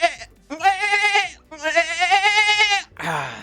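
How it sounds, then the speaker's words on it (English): A goat scream sound effect: two long, loud, wavering bleating screams separated by brief gaps, followed by a short rougher cry, close and alone. "Here's the goat scream."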